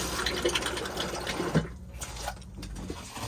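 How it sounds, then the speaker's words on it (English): A toilet flush in an Elddis Explorer 115 caravan, run with the water pump on: a steady rush of water with a brief gurgling thump midway, close by and fairly quiet, no talking. "make sure you've got your water pump turned on, and then you can press the flush"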